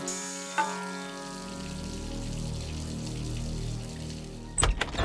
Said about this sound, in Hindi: नल खुला छोड़कर कहाँ चली गई है?